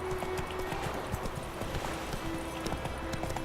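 Roach, the horse in The Witcher 3, gallops with a fast, even clip-clop of hooves over a busy game soundscape, moderately loud and continuous across the short stretch.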